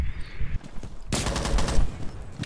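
Machine gun fire in Rainbow Six Siege: after a quieter moment, a loud, dense burst of rapid shots rattles on continuously for over a second, with no one talking.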